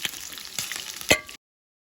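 Chicken for mandi frying in hot oil, a steady close sizzle with a few louder crackling bursts before it cuts off.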